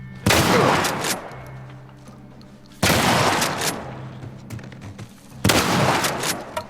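Gunfire in The Last of Us Part I remake on PS5 comes as three loud, close bursts of rapid shots, each fading into a short rumbling tail before the next volley.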